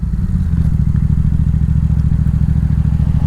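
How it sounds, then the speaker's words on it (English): Yamaha XSR700 motorcycle with a Power Commander V, idling loud and close with a steady rumbling engine throb and no clear rev blips. "So on my rev matching on downshift,"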